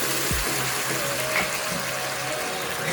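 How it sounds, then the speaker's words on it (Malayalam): Four cups of water pour steadily into a pot for making kesari, a continuous gushing splash, close by, and no one speaks. "അപ്പോൾ ഇനി നമുക്ക് 4 കപ്പ് വെള്ളം ഒഴിക്കാം."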